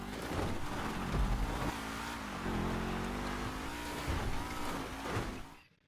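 A race car engine droning and revving in a racing video game, a steady close whine with gear shifts and faint tire noise, fading out abruptly at the end.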